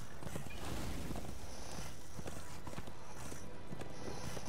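Horse hooves clip-clop at a brisk, steady gallop in the Darksiders II Deathinitive Edition video game, loud and continuous throughout.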